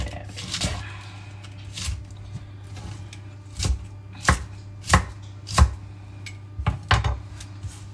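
A knife chops roughly through lettuce on a cutting board, a series of about eight close, crisp thuds in an uneven rhythm over a quiet kitchen hum, with no talking.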